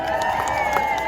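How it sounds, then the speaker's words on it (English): Crowd at a Palestine march outside Cardiff Central Library applauds and cheers a speaker, giving a steady outdoor roar with scattered claps. "So a round of applause for David Miller"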